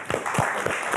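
An audience applauds, a short burst of close, dense clapping filling the whole second with a few louder individual claps.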